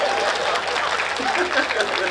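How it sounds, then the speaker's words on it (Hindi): An audience at a Hindi comic poetry gathering applauds in a steady, fairly loud patter of many hands while a voice speaks over it. "तालियां तो अब उठाना"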